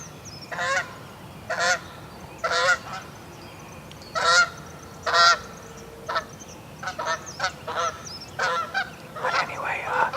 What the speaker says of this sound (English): here comes some more geese flying right over my head